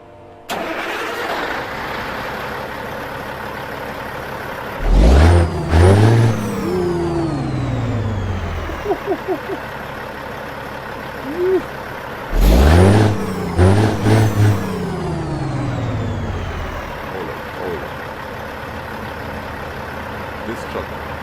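A truck engine in American Truck Simulator cranks and fires up twice, each start a loud surge of low rumble settling into a steady idle, with a voice talking softly between the starts.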